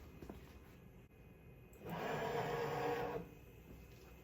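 Genmitsu PROVerXL 4x4 CNC router traversing 100 millimeters, a steady mechanical motor whine rising for about a second and a half over faint room hum, then stopping.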